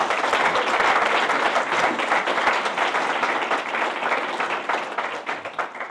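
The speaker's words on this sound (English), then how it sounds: "Can I get a round of applause for His Holiness?" Warm, sustained applause from an interview audience welcoming a swami, many hands clapping together at a steady level for the full stretch without talk.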